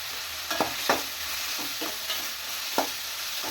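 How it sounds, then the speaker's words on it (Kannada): Capsicum fries in a pan, a dense steady hiss of sizzling oil with a few soft scrapes as the pieces are stirred, close by and without speech. "ಇವಾಗ ಇದಕ್ಕೆ ಕ್ಯಾಪ್ಸಿಕಮ್ ಹಾಕೊಳ್ಳೋಣ. ಇದು ಒಂದು ಸ್ವಲ್ಪ ಫ್ರೈ ಆಗಬೇಕು."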